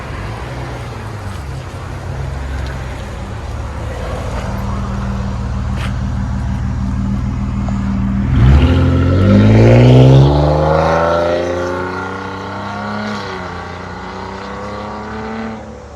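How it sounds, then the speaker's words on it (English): A Nissan Maxima 3.5L V6 fitted with a Motordyne cat-back exhaust pulls in, idling low before a loud, raspy rev swell rises and fades as the car drives close past. "Nissan Maxima with a MOTORDYNE system on it."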